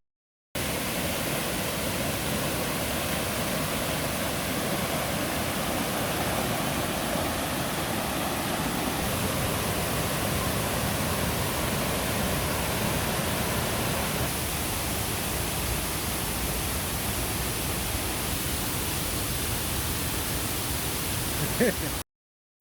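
Waterfall along a forest nature trail on Doi Inthanon in Thailand, a steady broad rushing roar of falling water that stays constant and fairly close from start to finish.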